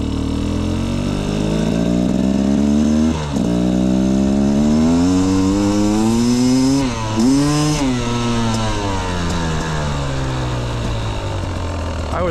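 A 2025 Beta XTrainer 250 two-stroke motorcycle accelerates with a loud, buzzing engine note that rises steadily in pitch, dips briefly at a shift, then climbs again, continuous and close throughout.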